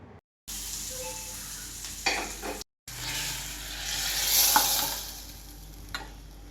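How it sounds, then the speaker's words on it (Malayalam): Curry leaves and chopped shallots tempering in hot coconut oil, an energetic crackling sizzle with stirring clicks, broken by two short silent gaps and swelling louder in the middle. "ഞാൻ കുറച്ച് വെളിച്ചെണ്ണ ഒഴിച്ചെടുത്തിട്ട് അതിലേക്ക് കറിവേപ്പിൻ്റെ ഇലയും ചെറിയ ഉള്ളി അരിഞ്ഞത് ഇട്ടിട്ടാട്ടോ ഞാൻ വറവിടണേ"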